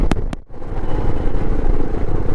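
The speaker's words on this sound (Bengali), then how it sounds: "আর আমাদের বাইক দৌড়ে যাচ্ছে তার মধ্যে" A motorcycle cruising along a highway at dawn, its steady engine drone and road rumble continuous and close, broken by a brief dip near the start.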